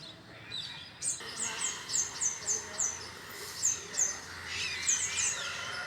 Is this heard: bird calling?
yes